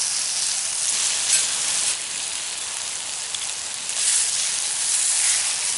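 Venison liver and onions frying in bacon grease give a steady, close, dense sizzle with soft crackles that swell and ease slightly, with no voices.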